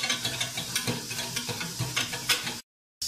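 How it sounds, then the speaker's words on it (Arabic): A thickening sugar mixture is stirred in a pot on the stove, with a close, rhythmic scraping and bubbling that swells and fades with each stroke. It cuts to silence briefly near the end, and no voices are heard. "كنبقى نحرك ما نغفلوش عليه حتى كتعقد لينا هاد الخليط يعقد ونحيدو"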